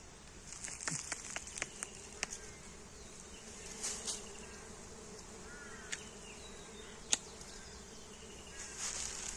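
Bees buzz around a honey hive outdoors, faint and close, with brief individual insect fly-bys and light taps over a quiet background.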